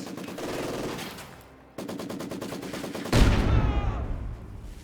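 Rapid, sustained bursts of German MG machine gun fire in the Company of Heroes 2 war game, rattling in long rhythmic volleys, with a heavier, louder burst of gunfire joining near the end.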